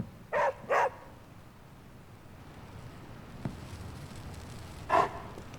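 A dog barks in Marvel's Midnight Suns: two quick, close barks come first, then a quiet gap, then one more bark near the end over low background ambience.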